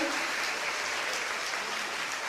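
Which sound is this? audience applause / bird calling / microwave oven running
audience applause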